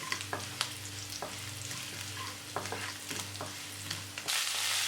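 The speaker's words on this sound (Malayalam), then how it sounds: "ഈ സ്റ്റവ് ഒരു മീഡിയം ഫ്ലെയിമിൽ വെച്ച് 2-3 മിനിറ്റ് നന്നായിട്ട് വഴറ്റി കൊടുക്കാം." Curry leaves and dried chillies sauté in a pan over a medium flame, giving a steady close sizzle broken by scraping stir strokes, with a louder hiss flaring near the end.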